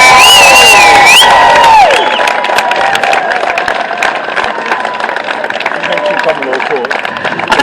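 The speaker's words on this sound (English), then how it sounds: "Can we have another big round of applause for Sarah?" An audience claps and cheers loudly for a speaker named Sarah at a public event, a dense steady roar of applause with whoops and a voice over the opening moments.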